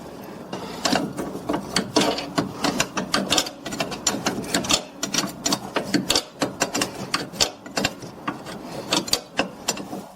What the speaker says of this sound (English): First, we tighten the upper nut and then the lower nut.